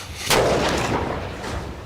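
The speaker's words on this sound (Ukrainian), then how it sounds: "Ось так півтора грамів ліків від стенокардії розколюють поліно" Explosion of 1.5 grams of PETN, an angina medicine, splitting a wooden log outdoors: one sharp, loud blast followed by a rumbling decay and lingering noise.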